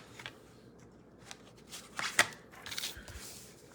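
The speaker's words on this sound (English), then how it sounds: "I'm gonna take this and I'm gonna cut it down to my" Old Olive cardstock trimmed down to 4 1/4 inches on a paper trimmer, a short scraping slide with a sharp snap in the middle, close and fairly quiet.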